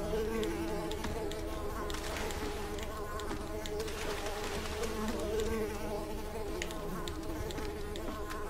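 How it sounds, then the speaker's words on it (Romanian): Swarm of mosquitoes in the game Unravel, a constant loud whining buzz near the listener that swells slightly midway, with no talk over it. "Vai, doamne, țânțari, plecați de aici."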